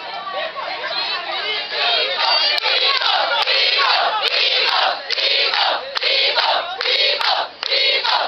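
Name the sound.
crowd shouting Pico and applauding in thanks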